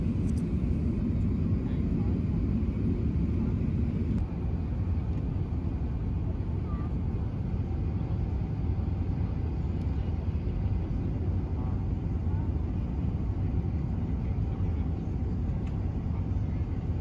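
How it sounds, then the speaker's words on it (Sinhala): A passenger airplane lands at London Heathrow, heard from inside the cabin as a loud, unbroken low rumble that stays even for the whole stretch. "ඉතින් අපි එහෙනම් ඔන්න ගොඩ බහිනවා"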